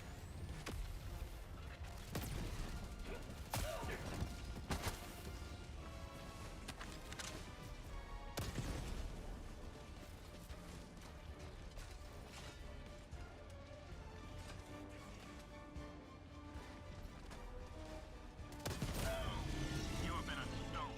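Recoilless rifle fire and heavy explosions against a factory strider in the video game Helldivers 2, loud booming blasts and crashes over continuous battle noise, with speech faintly mixed in.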